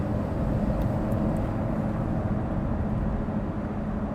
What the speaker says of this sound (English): put the exhaust in quiet mode, maybe that will be a bit more comparable to the ZR1